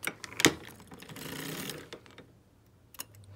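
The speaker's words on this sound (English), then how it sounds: "Let's crank the row." A circular sock knitting machine is cranked through one row of a heel, giving a close, brief run of clicking and whirring mechanical ticks that rise and fade, with a few sharper taps at the start and end.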